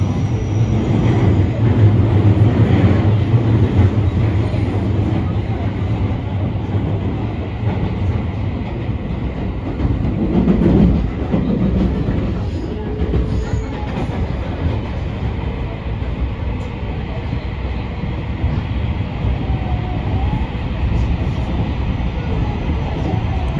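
A JR train runs through a loop line on a sunny day, heard from on board as a loud, steady rumble with rhythmic clickety-clack from the wheels throughout, swelling briefly partway through.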